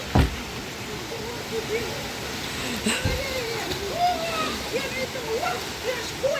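River water splashes and rushes steadily as people swim, a continuous close wash of flowing water with a few sharper splashes and faint voices in the background.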